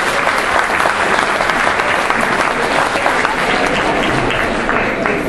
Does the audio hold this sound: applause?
yes